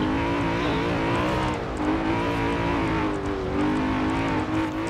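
A stock 2002 BMW M3-GTR race car in Forza Horizon 4 roars under load, its engine revving and shifting in a loud, continuous drone with rising and falling pitch, heard close and alone.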